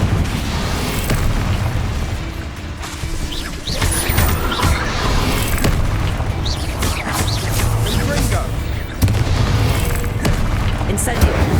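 Repeated Bombarda blasting-spell explosions and bursts in the Hogwarts Legacy video game, a dense, loud, continuous barrage of booms and crashes with game audio layered throughout.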